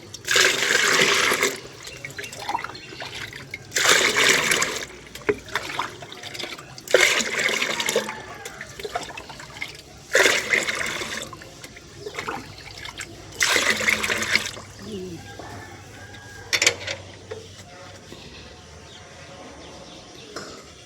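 Water mixed with vegetable waste is poured onto potted garden plants at home, in repeated splashing, gushing bursts separated by pauses, with faint birdsong in the background.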